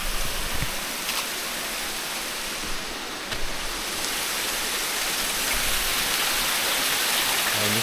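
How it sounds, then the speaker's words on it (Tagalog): Waterfall on Mount Kulis roaring steadily as a dense, broadband rush of falling water, close and constant for the whole stretch with no break. "Ayan yung falls."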